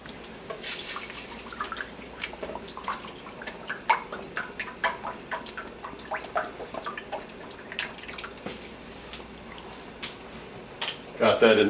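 Heavy cream poured into a high-sided saute pan, liquid splashing and dripping in irregular bursts over steady sizzling, with a louder rush toward the end.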